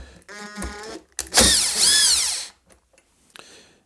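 A drill backs a screw out of MDF edge grain, its brief loud whirring burst rising and falling for about a second, set between short mechanical clicks and near-silent pauses.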